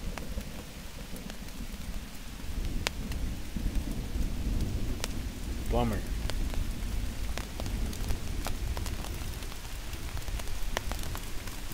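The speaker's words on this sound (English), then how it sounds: "And it's raining." Steady rain patters and hisses on a hammock-and-tarp campsite beside a campfire, with a low rumble of thunder underneath and a few sharp drips; a voice mutters one brief word.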